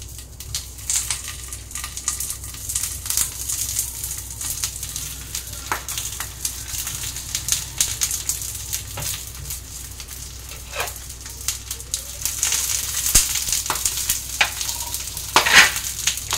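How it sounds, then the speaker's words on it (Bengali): Banana-leaf wrapped paneer paturi sizzle steadily in a little oil in a pan, a continuous soft frying hiss with occasional small crackles and pops that grow a bit louder toward the end. "এবার এক এক করে পাতুরিগুলো আমি এতে বসিয়ে দেব।"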